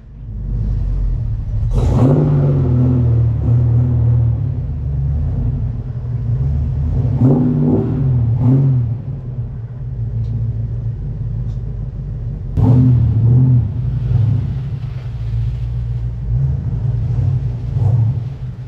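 A modded Ford Foxbody Mustang idles with a deep, loud rumble, revving in short bursts as it is driven slowly into the shop, the engine close throughout.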